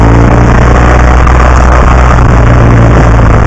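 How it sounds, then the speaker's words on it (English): A 2015 BMW R1200 GS Adventure motorcycle engine pulls steadily in third gear, a loud continuous low drone with constant rumble and wind, with no speech. "This bike is liking this third gear here."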